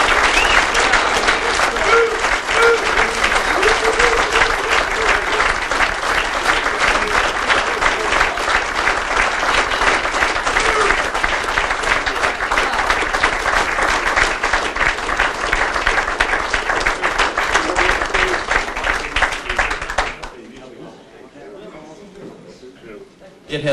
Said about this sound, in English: I think we owe him a round of applause for what he's done for all of us.